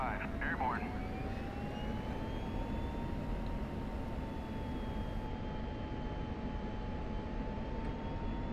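Jet aircraft accelerating in the DCS World flight simulator game, a steady, loud engine roar with a rising whine that holds throughout, a brief burst of other sound near the start.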